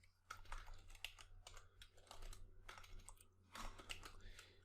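Steady runs of typing on a computer keyboard while writing code, close and clear, with brief pauses between bursts of keystrokes over a low background hum.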